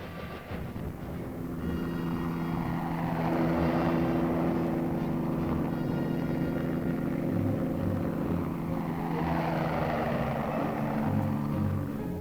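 A steady, droning engine hum with a throbbing low rotor beat holds for the whole stretch, loud and constant as a military helicopter passes.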